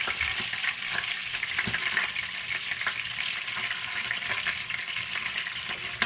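Pork frying in a pan for cassoulet, a steady dense sizzle with crackles and occasional stirring scrapes, close and continuous.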